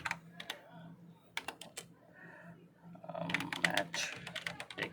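Bursts of rapid clicking from a computer keyboard as code is typed, close and fairly quiet, in uneven clusters with short pauses between them.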